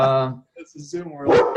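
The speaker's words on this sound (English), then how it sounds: "sorry about my dog. There's so many dogs." Dog barking indoors at home during a video call, a few short yaps and woofs mixed in with someone talking over them.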